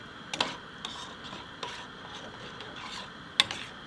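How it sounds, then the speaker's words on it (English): Thai green curry being stirred in a camping pot, with scattered light scrapes and clinks of a utensil against the metal over a soft steady background, a few sharper knocks standing out. "Give that a thorough mix in."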